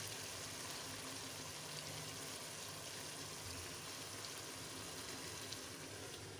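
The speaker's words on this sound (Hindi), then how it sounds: "मीडियम आंच पे इसको हमने भूनना है।" Chicken karahi frying over a medium flame, a steady, even sizzle that holds at a constant low level throughout with no voices.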